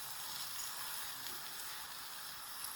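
Onions and chopped capsicum sizzle and fry in a pan, a steady close hiss running evenly throughout with no talk.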